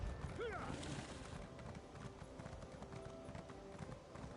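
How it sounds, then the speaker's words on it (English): Hooves of a fire horse mount in a video game clop steadily and rapidly at a galloping pace under game background noise, with a brief voice-like whinny sweep near the start. "I switched back to the fire horse mount"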